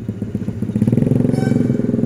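A mini trail motorcycle pulls away in gear, its small single-cylinder engine putting out a rapid, pulsing thump that grows louder as it rides off, with brief voices nearby.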